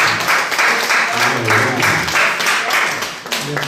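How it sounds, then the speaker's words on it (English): An audience applauds with dense, steady clapping that fills the space, loud and continuous for a few seconds at an interview event, with no speech over it. "Come on, let's have a round of applause."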